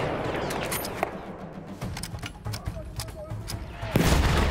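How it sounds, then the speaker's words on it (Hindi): Air strike explosions in the Battlefield 1 multiplayer battle boom through dense gunfire, with sharp blasts recurring throughout and a heavier impact near the end. Talk runs over parts of the din. "ओ ये तो एयर स्ट्राइक्स है"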